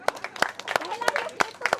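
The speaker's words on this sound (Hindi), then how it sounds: "ऋतु के लिए तालियां बजाएंगे।" A small group at a stone CNC carving workshop gives Ritu a brief round of scattered, uneven hand claps, sharp and close, over a couple of seconds while people talk.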